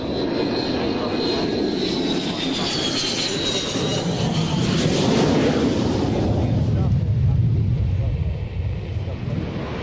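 A Saab Viggen jet comes in to land at the RAF Mildenhall airshow with a loud, rushing engine roar that swells and then eases. A commentator talks over it, and wind buffets the microphone.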